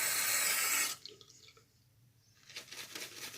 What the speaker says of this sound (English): Put a little bit more water on it.